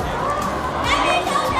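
A dense New Year's Eve crowd fills Huafa mall in Zhuhai with steady, close chatter and murmuring voices, some children's shouts mixed into the continuous hubbub.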